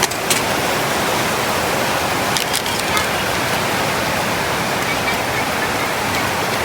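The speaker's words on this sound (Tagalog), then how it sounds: "Magdamag na yung ulan, hindi pa tumitigil." Steady, dense hiss of heavy rain pours continuously without letting up, a broad rushing wash with a few faint clicks within it.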